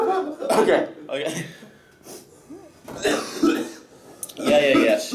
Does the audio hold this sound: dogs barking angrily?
no